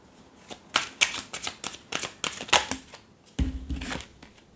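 Tarot cards being shuffled, a run of crisp riffling bursts in quick succession, then a pause and a final softer shuffle, close and fairly quiet with no talking.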